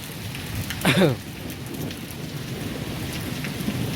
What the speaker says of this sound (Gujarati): ગાજ વીજ કડાકા ભડાકા બધો વરસાદ છે સરસ મજાનો.